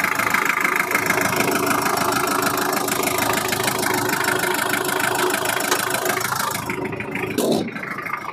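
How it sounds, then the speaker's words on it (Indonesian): A Daihatsu Taft GT 4x4 diesel engine idles with a steady clattering knock, continuous throughout, ending in a brief louder shift near the end. "Suara dentingan sebuah Daihatsu TAF dieselnya masih kentara ya."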